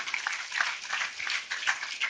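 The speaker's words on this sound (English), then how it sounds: "Please give a round of applause to her." A small group clapping in a brief burst of applause for a speaker at SCMHRD Pune, somewhat distant and fairly soft, lasting a couple of seconds.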